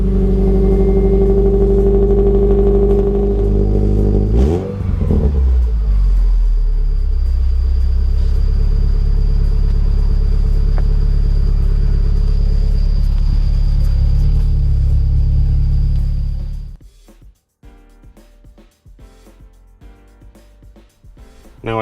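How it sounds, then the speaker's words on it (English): A Subaru Impreza with a modified exhaust system idles loudly with a deep, steady rumble after a start-up clatter, running close by for about seventeen seconds before being switched off. "show what we did with the exhaust system on the Impreza"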